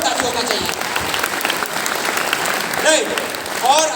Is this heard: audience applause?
yes